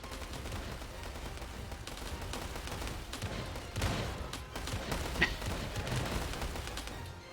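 Dense, continuous gunfire and explosions in a tank battle video game, with an IS-2 heavy tank taking heavy fire. Overlapping shots and bursts run steadily throughout, with a louder blast near the middle and a sharp crack later.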